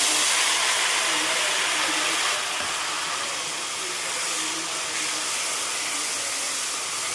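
Tempering spices hit hot oil in a kadai and set off a loud, dense, hissing sizzle that eases slightly partway through and then carries on steadily, close by with no voices.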